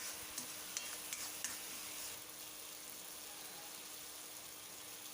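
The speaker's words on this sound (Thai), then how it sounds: "แล้วก็คนทุกอย่างให้เข้ากันค่ะ รอจนกว่าปลาหมึกมันจะสุกนะคะ" Squid stir-fries in a pan for spicy Thai basil squid, with a steady soft sizzle and a few quick scraping stirs early on, quiet and alone without voices.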